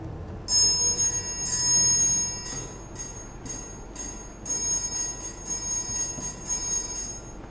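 A metal triangle played in quick bursts of strikes separated by short pauses, its bright, high ringing overtones shimmering and lingering over a soft background hiss.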